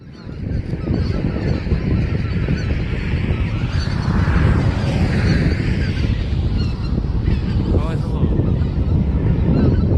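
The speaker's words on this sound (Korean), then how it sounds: "야, 철새가 완전 군대야, 군대." A large flock of migratory birds honks continuously in a dense, loud chorus over the west coast sea at Ganghwa Island, with some low wind rumble underneath.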